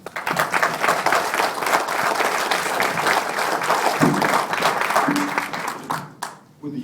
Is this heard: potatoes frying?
no